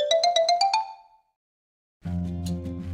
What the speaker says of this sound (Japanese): 法務局から電話がかかってきました。